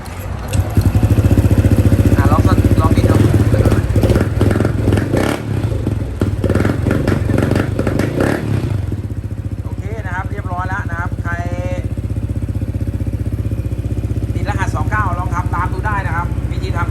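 A Honda PCX160 scooter engine, checked after a dashboard fault code, runs loudly up close with a steady mechanical clatter and rev surges, then settles into a lower idle while someone talks over it.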